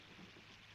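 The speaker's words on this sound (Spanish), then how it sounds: "Hoy llueve." Rain falls in a dense, steady hiss for a brief moment, even and continuous with no voices.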